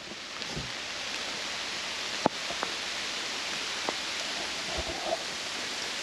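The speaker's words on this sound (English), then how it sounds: "Rain's starting to pick up." Rain falls on a Jeep during a trail ride near a bridge, a constant close patter with a few sharper drop hits standing out now and then.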